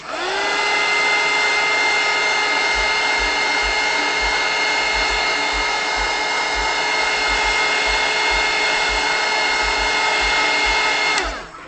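A loud electric heat tool, likely a heat gun, blows steadily for about eleven seconds to melt crayon wax, a constant whining hum with bright tonal overtones that cuts off abruptly at the end.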